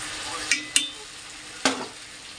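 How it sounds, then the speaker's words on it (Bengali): Rice and lentils for khichuri being stirred and fried in a pot with spices and vegetables, giving a soft steady sizzle broken by a few sharp scrapes of the spoon against the pot. "তারপর মশলা কষিয়ে সবজিও দিয়ে দিয়েছি, ভালোভাবে কষিয়ে নেবো।"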